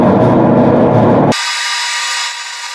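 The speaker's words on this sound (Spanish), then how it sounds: "Y vamos a lijar este. A ver, sí, lo vamos a lijar aquí en mi banco." A loud, steady bench power-sanding whir grinds an EVA shoe sole for about a second, then cuts to a thinner, high-pitched motor hum that trails off.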